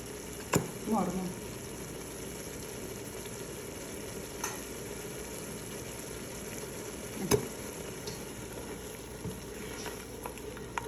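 Chopped onion sizzles and fries steadily in a pan with occasional stirring scrapes and clinks, a soft continuous crackle throughout with a few sharper knocks.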